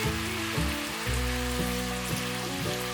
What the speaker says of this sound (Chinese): 再稍微拌炒